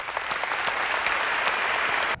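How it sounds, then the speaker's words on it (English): Audience at a keynote giving steady, dense applause for the whole stretch, many hands clapping together in a sustained roar that cuts off at the end. "I'd like to give them a round of applause"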